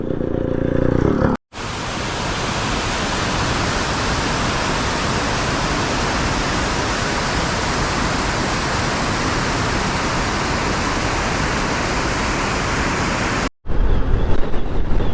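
Heavy water pours over Mettur dam in a steady, loud, broadband roar that holds constant throughout, with brief cuts near the start and end.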